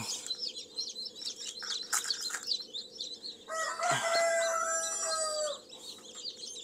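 Black Australorp and Jersey Giant chickens in a pen: a rooster gives one loud, drawn-out crow that dominates the middle, surrounded by ongoing clucks and chirps from the flock.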